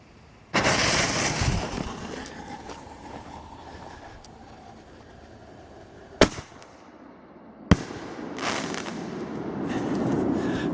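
Consumer fireworks rockets launch from a rocket launch pad with a loud, sustained roaring whoosh. Two sharp, isolated bangs ring out in the middle, and another rushing surge of launches follows near the end.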